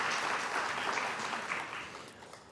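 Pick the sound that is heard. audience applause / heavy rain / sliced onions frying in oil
audience applause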